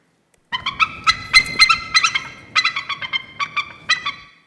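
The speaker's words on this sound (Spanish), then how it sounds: "Eso es un águila de verdad." A rapid series of sharp, high-pitched eagle calls, loud and close, chattering in quick repeated bursts.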